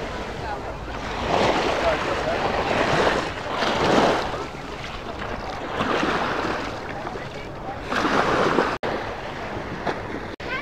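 Sea waves on the beach at Paignton, Devon, near the promenade and pier, rolling in as loud breaking surges roughly every two seconds over constant wind noise.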